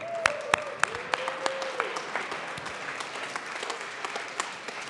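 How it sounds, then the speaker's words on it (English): Applause from a chamber audience at a Colorado House of Representatives legislative session, a steady wash of clapping with a few sharper individual claps standing out, moderately loud throughout. "Please give them a round of applause."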